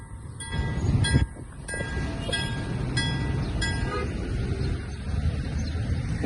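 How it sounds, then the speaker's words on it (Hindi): A train approaches Malir Colony railway station with a steady low rumble and rattling wagons, as high ringing tones and clinks from a level crossing bell recur over it. "कोई ट्रेन आ रही है जिसके लिए टन हो गई है, देखें कौन सी ट्रेन आई है।"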